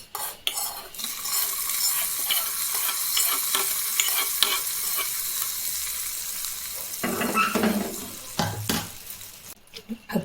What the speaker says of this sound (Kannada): ಇವಾಗ ಇದನ್ನು ತಂಬಳಿಗೆ ಸೇರಿಸ್ಕೊಳ್ಳೋಣ.